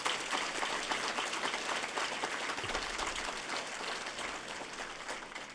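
A faculty and staff assembly audience gives steady, dense applause for an honored faculty member, a sustained wash of clapping with little talk.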